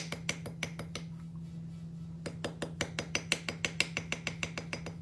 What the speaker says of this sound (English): We're taking our texture hammer.